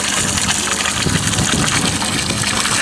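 Water gushes hard and steadily from a tap at a car wash, a loud, continuous rushing spray, close up, with no talking.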